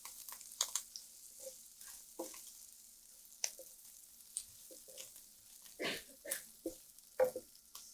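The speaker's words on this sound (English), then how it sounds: "And I saute it." Cooked chopped vegetables being sautéed in a pan: a faint, quiet sizzle broken by scattered clicks and scrapes from stirring.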